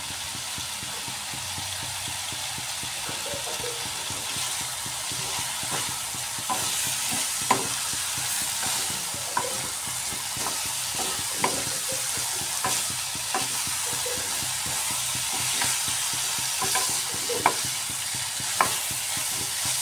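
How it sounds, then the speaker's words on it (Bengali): Cauliflower, potato and soybean stir-fry with grated ginger sizzles steadily in a pan, with faint scrapes and clinks of a stirring spoon over continuous frying hiss. "এবার আমি এর মধ্যে গ্রেট করে রাখা আদা দিয়ে দিচ্ছি।"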